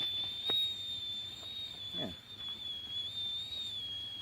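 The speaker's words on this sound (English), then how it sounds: "It's whistling away. Gotta let it boil a little bit longer though" A pot of water for blue spruce needle tea whistles on the boil, a thin steady tone that holds throughout at moderate distance, with a brief spoken word and faint handling noise partway through.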